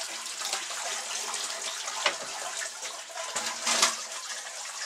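Water drains steadily from a rinsed deer hide, a continuous close trickling and splashing with a few brief louder gurgles.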